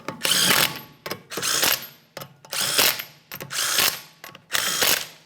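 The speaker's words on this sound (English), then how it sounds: "let's start on all 5 of our 19mm lug nuts" A ratchet spins 19mm lug nuts onto a Honda Civic wheel, giving five close, loud bursts of rapid clicking separated by short pauses.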